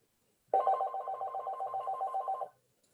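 An electronic telephone ringer warbles in a rapid, steady trill for about two seconds, loud and close, then stops, during a town zoning board hearing.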